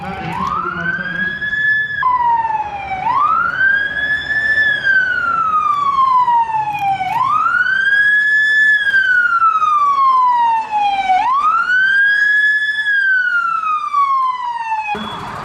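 A fire engine siren wails at a fire drill at Malatya Training and Research Hospital. It rises and falls in long, loud sweeps, about four cycles, and runs without a break over a low traffic rumble.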